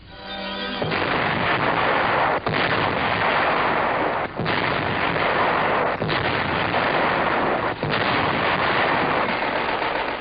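Heavy artillery guns fire in a 1945 wartime newsreel, a sustained roaring barrage broken by a few sharp pauses, loud and dense with no clear gaps between blasts.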